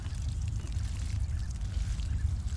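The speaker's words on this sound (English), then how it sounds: "we're just putting some water on these" Water is poured over newly planted perennials in a garden, a steady low splashing and trickling that runs on continuously at moderate loudness, close by and without talk.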